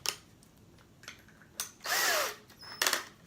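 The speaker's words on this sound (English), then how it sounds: "now I'm going to take my drill" A power drill spins an old electric RC motor being restored, running in short bursts: whirring starts, a longer sustained spin in the middle, then another burst near the end, close and fairly loud.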